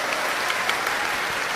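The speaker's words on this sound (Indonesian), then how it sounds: "tepuk tangan buat Maryam" Audience bursts into steady applause for Maryam at a crowded indoor gathering, dense continuous clapping filling the room for the whole moment.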